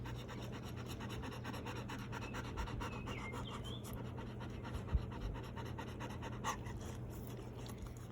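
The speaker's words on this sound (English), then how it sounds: "One way that dogs cool themselves off is by panting." A hot dog pants steadily to cool itself, quick rhythmic breaths close by and fairly faint, with an occasional soft scratch and no talking.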